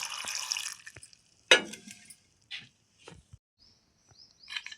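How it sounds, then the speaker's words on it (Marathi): Water splashes briefly into a pressure cooker holding washed, split pods for boiling, followed by a few scattered metallic clinks and knocks, close and fairly quiet. "हे उकडण्यासाठी पाणी टाकायचं."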